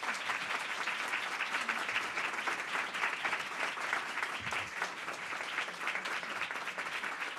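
A crowd at a city council meeting applauds steadily, a dense sustained patter of many hands clapping at even loudness from start to finish.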